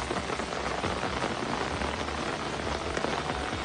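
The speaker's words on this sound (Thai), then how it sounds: "ฝนก็กำลังตกตกมาเรื่อยๆ" Heavy, steady rain pours down in a forest garden, a dense continuous hiss of drops striking leaves and ground close all around, with no voices.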